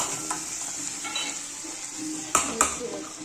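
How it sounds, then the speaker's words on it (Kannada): Onion, garlic, cumin and chilli fry in oil in a pan for sambar, a steady close sizzle with a spoon stirring and two sharp clinks of metal against the pan near the end. "ಈರುಳ್ಳಿ, ಬೆಳ್ಳುಳ್ಳಿ, ಜೀರಿಗೆ, ಮೆಣಸಿನಕಾಯಿನ ಎಣ್ಣೆಲಿ ಫ್ರೈ ಮಾಡ್ತಾ ಇದ್ದೀನಿ."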